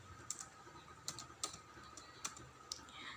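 Keystrokes on a computer keyboard while entering variable labels in SPSS: a handful of faint, scattered clicks in short irregular bursts against a quiet room background.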